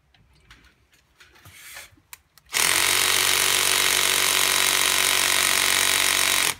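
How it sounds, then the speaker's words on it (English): A ratcheting power tool hammers loudly and continuously for about four seconds, working loose a tight brake rotor screw on a BMW 5 Series E60/E61, after a few seconds of quieter clatter and handling. "So it's got a ratchet, so it'll bang and rattle, which I think is going to help."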